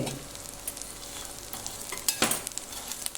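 Edible gum frying and puffing up in ghee in a pan gives a soft, quiet sizzle with light stirring, and a few brief crackling bursts near the end.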